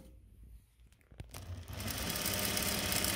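A Juki DDL-8700-7 industrial sewing machine gives a few faint clicks and taps, then starts stitching and builds to a fast, steady, close mechanical whir.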